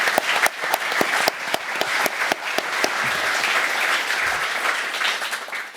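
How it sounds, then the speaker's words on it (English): An audience at a press conference claps for the setup crew, with sharp distinct claps rising into a steady, moderately loud round of applause lasting several seconds. "can we just give a clap to the crew who did this both physically and logistically?"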